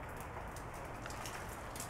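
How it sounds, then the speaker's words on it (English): Light rain falling outdoors on a snowy New Year's day, a steady, soft hiss of drops with faint patter throughout and no voices. "It's still raining a little bit"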